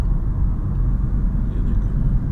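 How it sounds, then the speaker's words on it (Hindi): A Shahzor light truck drives past on a road near a livestock market during a lockdown, a steady low engine rumble with road noise that stays fairly loud throughout, no voices. "ये जा रहा है एक शाहजोर"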